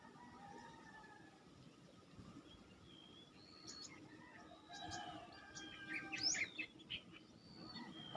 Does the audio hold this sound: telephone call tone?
no